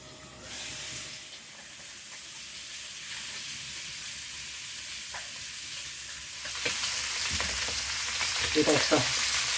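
Pork spare ribs sear in a pan, a steady hiss of frying that swells into a louder, crackling sizzle partway through, close and continuous.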